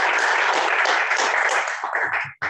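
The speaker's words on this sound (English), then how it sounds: "those are just claps" Dense applause from a seminar audience, many hands clapping together at a steady, fairly loud level before it thins out and stops near the end.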